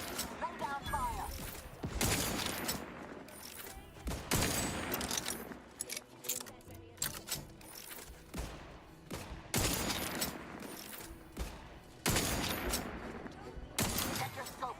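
Dense video-game gunfire, bursts of rapid shots and volleys that keep coming back throughout, loud and near, with game voices and music mixed in.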